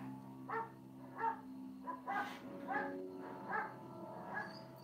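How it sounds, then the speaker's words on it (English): A dog barks repeatedly at an even pace, somewhat distant and moderately faint, over a low steady hum. "I hear Ugly Betty barking."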